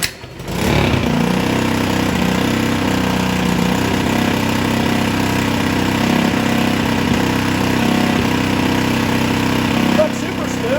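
An Earthquake rototiller's small engine starts with a pull and settles into a steady, loud idle that runs unchoked and slightly rough for about nine seconds, then cuts off abruptly near the end.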